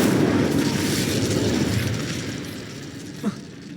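An Incendio fire spell cast in the Hogwarts Legacy video game bursts with a loud, roaring whoosh that gradually fades away over a few seconds.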